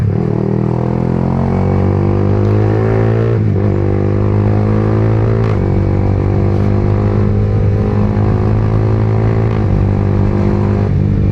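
A 2025 Yamaha R15M 150cc motorcycle engine roars steadily on a high-speed run, with brief dips in the drone as the quick shifter changes gears a few times, close and loud throughout.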